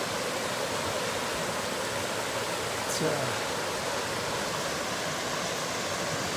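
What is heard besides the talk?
river water flowing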